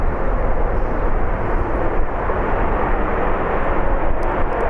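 A Boeing 777 airliner at Birmingham airport, its engines producing a loud, continuous roar close by that stays strong and unbroken for the whole stretch.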